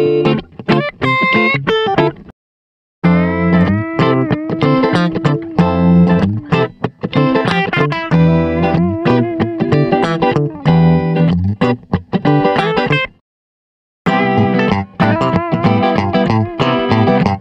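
A clean neo soul electric guitar loop plays smooth, jazzy chord stabs and picked melodic phrases, with two short pauses where the loop restarts.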